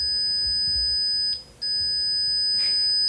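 A steady high electronic beep tone sounds continuously, breaking off briefly midway before resuming, with faint low rumbling underneath.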